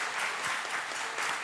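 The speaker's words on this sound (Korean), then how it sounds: "우리 상장 수여할 때 박수 한번 쳐주시기 바랍니다" A church congregation applauding during an award presentation at a Sunday morning service, steady dense clapping filling the room at moderate level, no speech over it.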